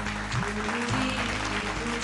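Studio audience on a Bengali family quiz game show breaking into loud, continuous applause that fills the whole short moment with dense clapping.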